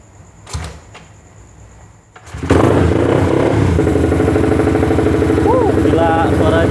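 A motorcycle engine starts after a couple of clicks and settles into a loud, steady idle with a rapid rumbling pulse, close by.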